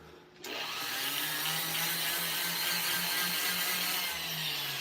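A Type R exhaust manifold port is worked with 120-grit abrasive, a steady continuous grinding hiss that starts abruptly and holds at an even level, close and alone.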